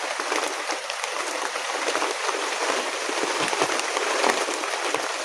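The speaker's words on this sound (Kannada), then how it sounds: "ಆಲಿಕಲ್ಲು ರೀತಿ ಮಳೆ ದೊಡ್ಡ ದೊಡ್ಡ ಹನಿ ಮಳೆ ನೋಡಿ" Heavy monsoon rain falls in big, hail-like drops, making a dense, steady hiss and patter with no break. It is loud and close, and no one speaks over it.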